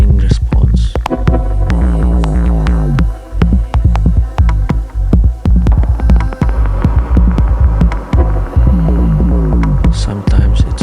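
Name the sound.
Moog DFAM synthesizer sounding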